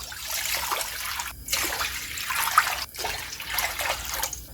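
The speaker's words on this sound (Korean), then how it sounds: "물 3리터를 부어주세요" Three liters of water pouring into a pot for anchovy broth make a continuous close splashing rush with two brief breaks in the flow, and no one talks.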